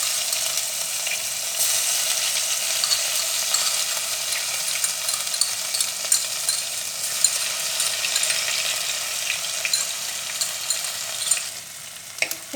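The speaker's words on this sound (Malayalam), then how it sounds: "ഇനി നമ്മുടെ ഇഞ്ചി വെളുത്തുള്ളി പേസ്റ്റ് ഇതിലേക്ക് ചേർത്ത് കൊടുക്കാം." Ginger garlic paste fries in a pan of oil for Kerala stingray curry, giving a loud, steady close-up sizzle with light stirring scrapes that eases off near the end.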